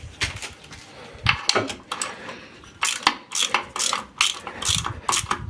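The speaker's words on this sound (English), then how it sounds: "Next you want to tighten everything again." A ratchet tightens engine bolts on a Fiat Ducato 2.3 JTD, with rapid metallic clicking in bursts of pawl ticks separated by short pauses, close and clear, with no voice.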